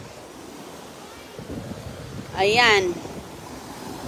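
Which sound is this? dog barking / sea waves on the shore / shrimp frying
sea waves on the shore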